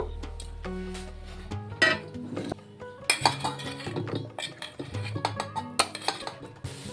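Cooked mixed vegetables spooned into a steel tiffin box, making close, irregular metallic clinks and scrapes of a spoon against steel, with no one talking.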